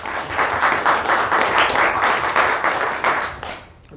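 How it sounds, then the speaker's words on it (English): A conference audience gives steady applause as Alex Oberhauser is welcomed for a talk on Bitcoin and crowdfunding, a dense wash of clapping lasting several seconds before fading out. "please, a big applause for Alex Oberhauser"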